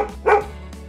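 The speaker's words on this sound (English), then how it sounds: "Right again. It's a dog." A single dog bark in a toddler farm-animal guessing game, one sharp, fairly loud bark near the start of a brief clip, with no talking.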